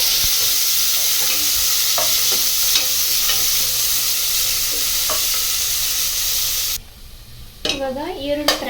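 Long-sliced onions frying in oil for chicken biryani, a steady loud sizzle with occasional stirring scrapes, which thins out near the end as a few brief clinks and knocks ring out.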